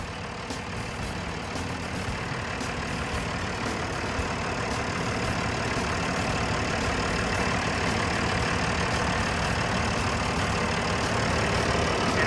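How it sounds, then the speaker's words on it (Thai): A six-cylinder diesel engine on a TCM 850 wheel loader idling steadily, a constant low rumbling drone that grows slightly louder toward the end. "ตัวนี้ก็จะเป็นเครื่องยนต์6สูบนะครับ เดี๋ยวไปดูสภาพเครื่องยนต์ใกล้ๆกันครับ"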